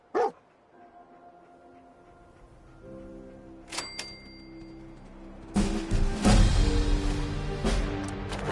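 Dogmeat, the dog companion in the video game Fallout 4, barks in short bursts amid game ambience, tonal music and swelling noise, without talk.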